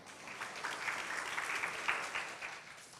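Faint, steady clapping from a modest audience welcomes a student presenter at an academic conference for a radiology department, continuing evenly for a few seconds.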